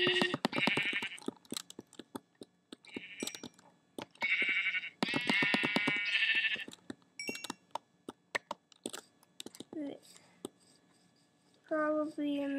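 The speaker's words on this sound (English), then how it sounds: "I am gonna go ahead and kill some sheep for a bed" Sheep bleating in a blocky survival video game, several short bleats scattered among game effects and clicking, moderately loud, with someone talking at times.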